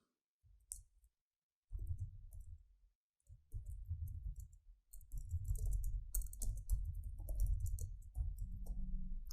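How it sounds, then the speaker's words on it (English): Text being typed on a computer keyboard, with sparse clicks at first and then a dense, steady run of close key presses, without any voices. "So let's type the text first."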